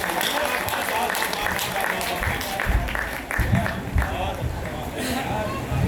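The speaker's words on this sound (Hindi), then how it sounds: "जोरदार तालियां बजाकर" An audience at a kavi sammelan poetry gathering in Mumbai claps with moderate loudness, the applause mixed with crowd murmur, voices and a few low thumps.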